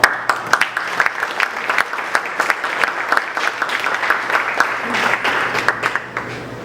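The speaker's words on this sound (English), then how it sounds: "Please join me in another round of applause to thank all our sponsors" A Boy Scouts of America council audience gives a round of applause for its sponsors, loud and close, with dense clapping punctuated by sharper individual claps and a slight swell near the end.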